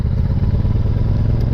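Honda motorcycle riding near a camera on a road in Baltimore County: a loud, continuous, throbbing engine drone, close and steady for the whole short stretch.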